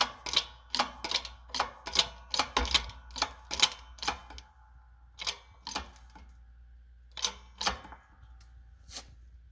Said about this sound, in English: So we're going to just go ahead and push it down into the housing.